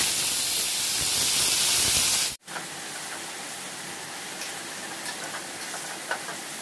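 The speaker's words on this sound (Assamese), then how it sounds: "এতিয়া এই তিতা গুটিবোৰ ভাজি কৰিম" Bitter gourd seeds fry in a hot wok with a loud steady sizzling hiss. It cuts off abruptly partway through, then resumes as a quieter, crackling sizzle with occasional ticks and no talking.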